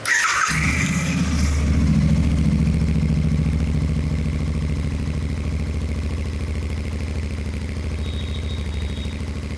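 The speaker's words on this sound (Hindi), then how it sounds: "अब एग्जॉस्ट सुना देता हूँ यार आपको" A Royal Enfield Bear 650 scrambler motorcycle starts up and settles into a steady, throbbing exhaust idle, loud and close, with a deep, even parallel-twin beat that continues unbroken with no talking.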